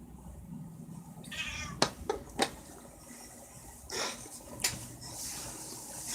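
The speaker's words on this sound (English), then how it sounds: "Now, one last meow and she goes." An elderly cat meowing nearby, a few soft separate meows spread across a quiet room with light background noise and no talk.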